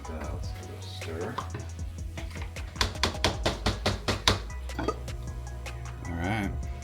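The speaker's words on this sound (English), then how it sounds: "And let's give it a stir." A bean spoon knocks and scrapes through beans and molasses in a slow cooker pot, a run of about eight close, rhythmic taps in the middle, with a voice talking before and after.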